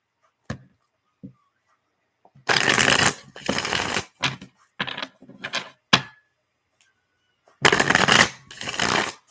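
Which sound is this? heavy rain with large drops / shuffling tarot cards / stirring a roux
shuffling tarot cards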